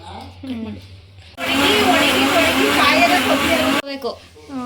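Mixer grinder grinding greens finely for chicken sambar, a loud steady whine lasting a few seconds, with people talking before and after it.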